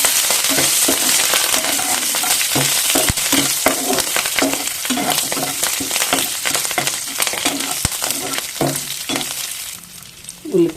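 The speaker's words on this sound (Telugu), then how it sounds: "బాగా వేయించుకోండి." Chillies, curry leaves and garlic frying in oil for an okra fry, a loud, close, continuous sizzle broken by scraping stirs and occasional clinks of a spoon against the pan.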